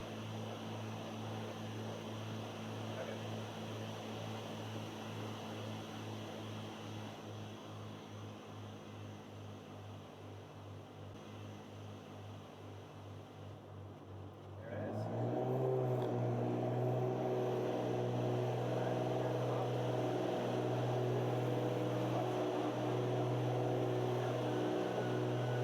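A twin-engine Cessna flying a maneuver, heard from outside as a steady propeller drone with a low harmonic hum, which jumps abruptly louder and rougher about halfway through as the power rises, with no talk.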